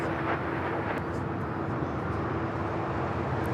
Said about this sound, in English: Here we have the LA-28 Olympics livery with Delta Flight 7 taking off to Tokyo Haneda on the